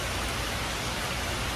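Heavy rain pours steadily during the rainy season, a dense, even hiss of downpour that stays loud and unbroken throughout, with no voices.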